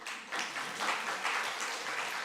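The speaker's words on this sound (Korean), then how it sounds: "여러분 큰 박수로 환영해 주시면 감사하겠습니다." A church congregation applauds to welcome a missionary pastor's family home from Taiwan, producing a steady wash of many hands clapping at moderate volume, sustained without pause from start to finish.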